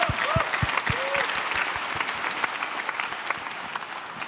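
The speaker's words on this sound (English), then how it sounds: "One round of applause for this soloist here" Audience applause for a principal cornet soloist at a brass band and choir concert, sustained clapping from a large hall with a few low thumps and brief tones at the start.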